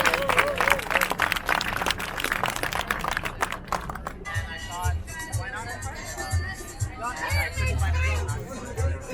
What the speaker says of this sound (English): we could just give them a round of applause to the chef